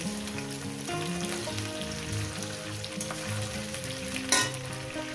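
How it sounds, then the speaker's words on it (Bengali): Eggplant and green chillies fry in oil in a pan, a dense, continuous sizzle and crackle close by with occasional stirring clatter and one louder spatter near the end. "এরপর দিয়ে দেবো বেগুন আর কাঁচা লঙ্কা দিয়ে দেবো এইটাও আমি চার পাঁচ মিনিট ধরে এটাকে ভাজব"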